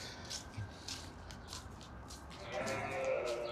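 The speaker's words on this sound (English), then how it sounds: "Oh, hi sheep." Sheep and baby lambs at a city farm on a rainy April day, with faint high bleats repeating every half second or so over background noise that grows louder toward the end.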